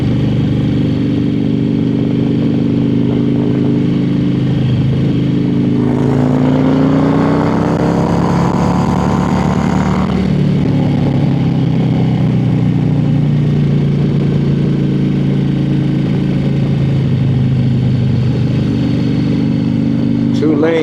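A motorcycle engine drones loud and continuous on a winding mountain road, its pitch rising and falling with the throttle while a rider talks over the steady roar.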